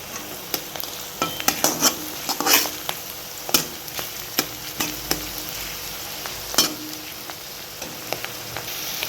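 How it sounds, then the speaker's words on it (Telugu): Onions fry in a pan until golden, with a constant soft sizzle broken by the repeated sharp scrapes and clicks of a spoon stirring, close and alone. "ఆనియన్స్ కొంచెం బ్రౌన్ కలర్లో వచ్చి గోల్డ్ కలర్లో వచ్చినంత వరకు వేయించుకున్నాము"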